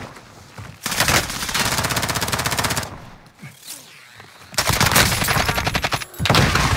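Video game gunfire during an apartment-clearing mission, with loud sustained bursts of rapid automatic fire that pause briefly and then resume.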